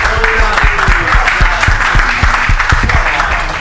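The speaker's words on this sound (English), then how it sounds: "Give these three gentlemen a little round of applause" Loud audience applause for three contestants at a live motocross show, dense close clapping with sharp individual claps standing out and a few voices and whoops in the crowd.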